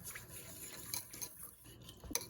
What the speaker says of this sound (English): Just whisk everything in.